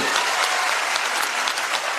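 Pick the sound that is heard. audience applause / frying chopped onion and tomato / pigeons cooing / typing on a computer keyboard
audience applause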